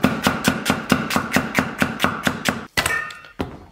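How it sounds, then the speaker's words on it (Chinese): A knife slices an onion into strips on a cutting board with about a dozen crisp, evenly spaced chops in quick rhythm, then a brief pause and a last clatter, close and loud with no talking. "洋葱切成丝儿"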